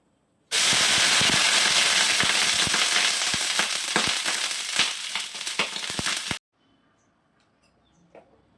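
Water sprinkled onto a hot oiled dosa pan erupts into a loud, dense sizzle with sharp crackling pops, holding steady for about six seconds before cutting off abruptly into near silence.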